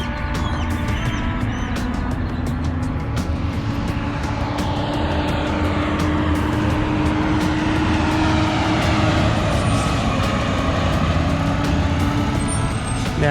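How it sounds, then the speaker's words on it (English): Heavy harvest farm trucks drive past on a steep hill in Mexico, a loud, steady engine roar with a low rumble holding for over ten seconds, fairly close. "Now those are the harvest trucks, farm trucks."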